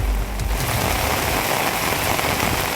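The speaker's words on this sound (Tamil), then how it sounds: "சென்னை கிழக்கு கடற்கரை சாலையில் திடீரென இரவில் கனமழை பெய்தது." Heavy rain pours at night along Chennai's East Coast Road, a loud, dense, continuous hiss of drops hitting surfaces with no voices.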